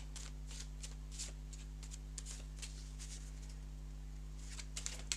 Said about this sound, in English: So we're going to shuffle up our cards.